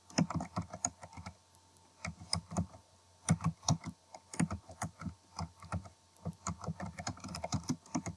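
Computer keyboard keys pressed repeatedly while working in Microsoft Word, a quiet, close, uneven run of light plastic clicks and taps in bursts with short pauses, without speech.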